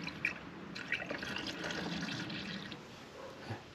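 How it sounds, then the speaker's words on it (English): Liquid pours and gurgles as 50-50 pre-mixed coolant fills a car radiator, a steady close trickle with small splashes throughout. "you got to refill it with 50-50 pre-mixed coolant"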